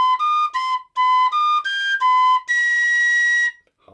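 A tin whistle plays a short phrase of a Bach Bourrée, clear bright notes in a quick detached rhythm, ending on a longer held high note, solo and close with no talking.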